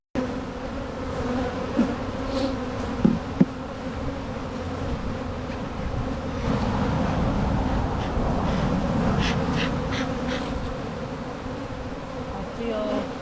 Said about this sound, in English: and lots of bees too